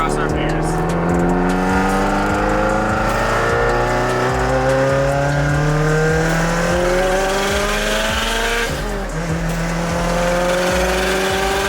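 A 2002 Subaru WRX fitted with a boost controller accelerates hard through the gears on a test drive, its loud engine note repeatedly rising in pitch between shifts, heard from inside the car.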